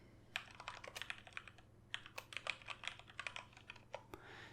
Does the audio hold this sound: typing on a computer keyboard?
yes